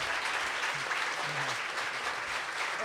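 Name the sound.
audience applause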